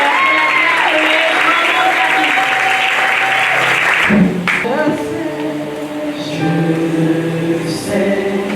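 Loud, sustained applause and cheering from a church congregation, steady throughout with crowd voices and a tonal hum mixed in, shifting slightly partway as music or voices join.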